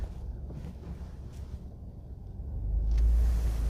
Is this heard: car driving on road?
yes